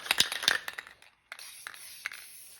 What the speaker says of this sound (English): So I did a light first coat, a thick second coat. I'm doing a light top coat.